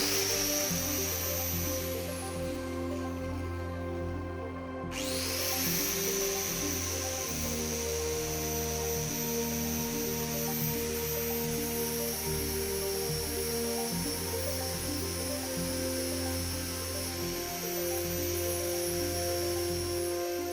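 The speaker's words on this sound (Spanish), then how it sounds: "ahora también vamos a conectar esta amoladora angular de 800 vatios" An 800-watt angle grinder runs with a sustained high motor whine and layered humming tones, dipping briefly around the five-second mark before resuming steadily, with no talking.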